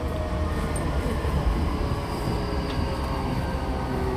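A Tokyo Rinkai Line train runs with a continuous loud rumble and rolling wheel noise, steady throughout, with no talk over it.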